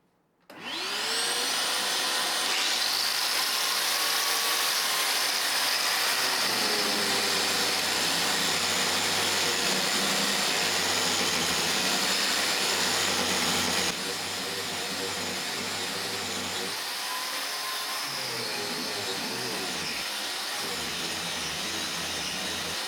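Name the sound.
small vacuum cleaner running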